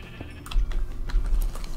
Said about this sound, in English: get out of my way, goat.